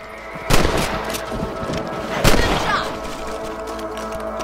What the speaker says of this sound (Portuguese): Os primeiros tiros do jogo tem que ser animais